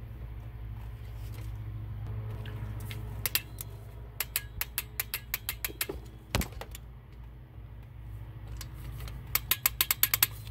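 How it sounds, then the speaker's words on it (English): Ratchet tightening a thermostat housing bolt on a Cadillac XT5, bursts of rapid close clicks against a steady low hum in a garage. "So now I can tie down the bolt to like a 89 inch-pound of torque."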